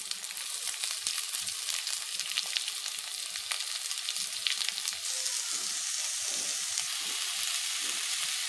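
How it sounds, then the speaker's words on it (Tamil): Onions sizzle steadily in a hot pan for a country egg gravy, a loud, continuous frying hiss with small crackles and occasional stirring, close and without any voices. "வெங்காயம் வதக்கிறதுக்கு கொஞ்சம் உப்பு"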